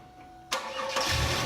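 A car engine cranks briefly and catches, jumping from a quiet hum into a loud, steady idle that swells slightly within about a second, close by with no talk.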